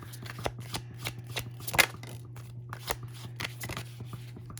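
Tarot cards are shuffled close by in a quiet room. Quick papery riffles and taps repeat irregularly over a low steady hum.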